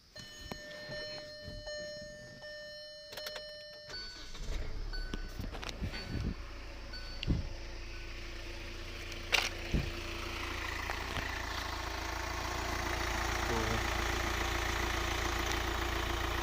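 A Hyundai Venue SX engine is started after a key turns and faint chimes sound, cranking catches with a few sharp knocks, then settles into a smooth, quiet, steady idle.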